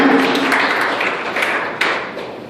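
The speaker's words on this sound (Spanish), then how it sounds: "Denle ese aplauso a Dios." A church congregation applauds, a dense wash of clapping that fades gradually over a couple of seconds, with a few sharper taps standing out.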